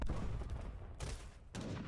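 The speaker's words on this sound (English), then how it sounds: "Cannon are just gonna wreck all that." Cannon fire in an Age of Empires III team battle: dense, rumbling booms with loud bursts striking roughly every half second to second, heard alone under a constant din of in-game combat.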